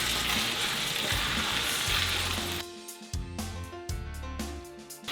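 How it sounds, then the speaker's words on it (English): Smoked venison sausage with garlic and onion simmers in a big pan, giving a steady close sizzle that drops to softer bubbling and crackling pops partway through. "Now we just let it all simmer down."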